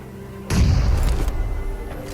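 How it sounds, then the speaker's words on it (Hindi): Grenade blast in a battle royale shooter game: a sudden heavy booming explosion after a quiet moment, followed by rumbling decay and a couple of further sharp impacts. "फिर भाई मैं इधर ग्रेनेड वैनेड करता हूँ, मैं सोचता हूँ शायद साला एक ग्रेनेड से ही दग जाए"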